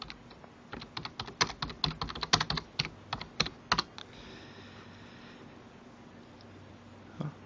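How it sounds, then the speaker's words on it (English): Fingers type rapidly on a computer keyboard, close up and crisp, in a burst of uneven keystrokes that stops after about four seconds, followed by quiet room noise and one last tap. "I'll type West Hill Lane in."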